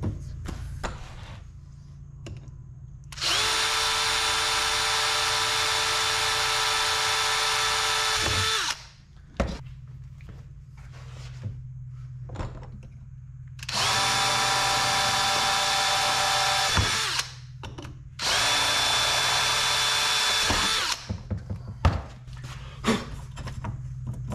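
A power drill fitted with a Lennox 1.5 inch hole saw whines loudly up close in three sustained bursts, each several seconds long, separated by quiet pauses with small clicks and handling noises.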